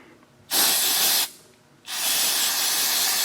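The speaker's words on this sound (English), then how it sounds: "and then I'll spray it." Ether aerosol cleaner sprays onto transmission filter magnets of a 2018 Toyota Tundra in two close, loud hissing bursts, the first under a second long and the second longer, with a short quiet gap between them.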